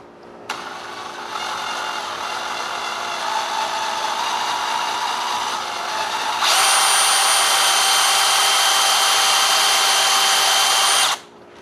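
A power drill whines continuously on a rusted battery tray bolt in a Mercedes R107 engine bay, loud and close, steady at first and then rising to a higher, harder pitch before cutting off.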